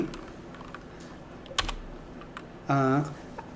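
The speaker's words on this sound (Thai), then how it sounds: "อาจจะมีเสียงดังของคีย์บอร์ดนิดนึงนะครับ เพราะว่าคีย์บอร์ดผมมันเสียงดัง" Loud keyboard typing, a few scattered clicks followed by a sharper burst of keystrokes, close up with faint room noise underneath.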